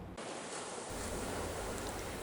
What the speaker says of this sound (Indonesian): cuaca buruk berupa ombak besar disertai angin kencang yang melanda laut utara Kabupaten Tuban